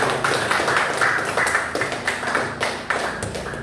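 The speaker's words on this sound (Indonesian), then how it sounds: "tepuk tangan buat Komala Sari." Classroom audience clapping during an Islamic religious education teacher-training lesson in Bandung, Indonesia: a dense, steady patter of hand claps from a small group, fairly close, running throughout with no speech over it.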